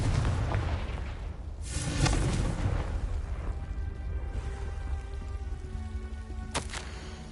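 Fire spell Confringo cast in Hogwarts Legacy, a fiery blast around the two-second mark followed by a low rumbling decay, with a sharper crackling burst near the end over a steady ambient game background.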